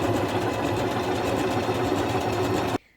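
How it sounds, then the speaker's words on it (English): A sewing machine runs continuously at steady speed stitching around the edge of layered fleece for a toddler dinosaur costume, a close, even mechanical whirring that cuts off abruptly near the end. "then we just sew around this outer edge"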